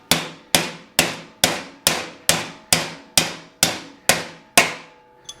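Eleven even, ringing metallic hammer taps at a steady rhythm, close and fairly loud, knocking apart parts of a ZF 8HP45 automatic transmission.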